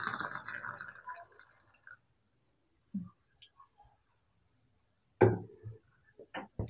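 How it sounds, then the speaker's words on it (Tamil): Milk is poured into water in a kitchen while making pepper golden milk, a short quiet pour at the start followed by scattered faint clicks and knocks. "பால் ஒரு தண்ணியில் ஊற்றிக்கோங்க."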